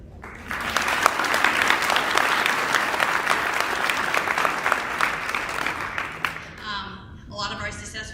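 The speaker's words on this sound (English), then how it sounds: "She deserves to stand and then get applause." An awards night audience applauds a medal-winning high school student, close, full clapping that rises quickly and holds steady for several seconds, then fades as a voice begins speaking.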